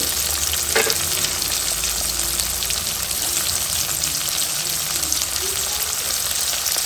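Onion and urad dal fry loudly in a hot pan, with a dense steady sizzle and the repeated scrape and clack of stirring close up.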